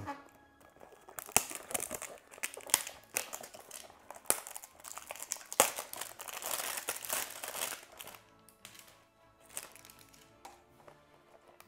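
Funko Mystery Minis Justice League blind box packaging is torn open and crumpled, with close, loud crinkling and sharp tearing bursts that come in irregular spurts and then fade into softer rustling.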